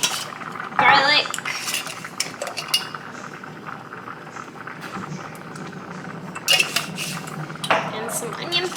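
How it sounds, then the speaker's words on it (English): Spices being stirred into a thick potato and barley soup in a pot, with spoon scrapes and clinks against the metal in a few bright bursts between quieter stretches of gentle bubbling. "Stir that all up."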